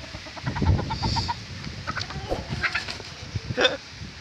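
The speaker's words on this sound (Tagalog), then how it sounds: "So pinagpistahan agad nila yung ating mga nakawala lang na manok." Farm chickens cluck and call close by, with a short series of rhythmic clucks followed by scattered squawks and rustling as the birds feed, loud and without talk.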